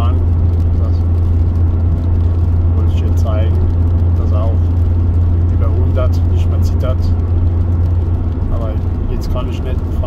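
A car is driven fast on a busy road with heavy traffic, around or above 100 km/h. A loud, steady low engine and road drone runs throughout, with a voice talking over it.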